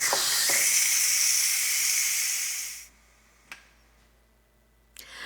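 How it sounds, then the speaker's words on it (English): A pressure cooker holding a quinoa dish vents its remaining steam in a loud, steady, close hiss for about three seconds, then cuts off, leaving quiet broken by two brief clicks. "now we can release the rest of the pressure."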